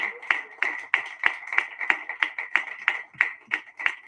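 Church congregation clapping in praise of Jesus, a steady rhythmic beat of crisp claps about three per second, moderately close, with no other voices.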